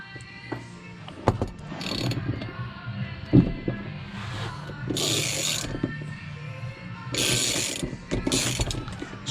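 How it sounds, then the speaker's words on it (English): A ratchet wrench turns 22mm floor bolts in a VW Transporter van, its close pawl clicking in repeated bursts mixed with metallic clanks and knocks as the bolts are worked loose. "We then need to remove these 4 bolts to gain access to put the seat on"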